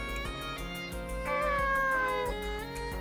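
A cat meows in the video game Nights of Azure, a soft, drawn-out mewing cry rising then falling over quiet background music.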